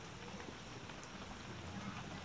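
Steady rain falls for about an hour in a backyard, a soft, even patter of drops on surfaces, faint and continuous with no talk.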